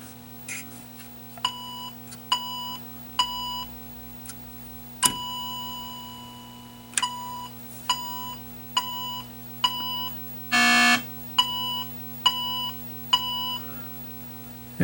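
A 1979 Atari Video Pinball arcade PCB sounds its test beeps as a run of short, evenly spaced electronic tones over a steady low hum, with one brief noisy burst partway through.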